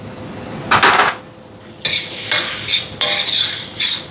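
A spoon scrapes and stirs roasted brinjal thokku in a pan with coriander, several short metallic scraping bursts clattering against the pan over a faint sizzle, with quiet pauses between strokes.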